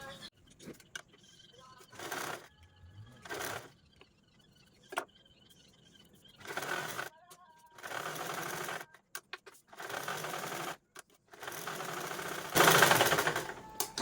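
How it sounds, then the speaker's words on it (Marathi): A sewing machine stitches around all four sides of a fabric pocket wallet, running in short bursts of rapid needle chatter separated by pauses with faint handling noises, close and clear. "आता हे चारही बाजूने आपण स्टिच करून घेऊ"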